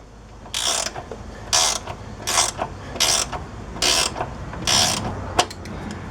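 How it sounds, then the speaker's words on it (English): Ratcheting gear wrench turned in short repeated strokes while working on Polaris Sportsman front bushings, six crisp bursts of rapid pawl clicks close to the mic, with a small clink near the end and no talking. "Gear wrench is a little too flimsy."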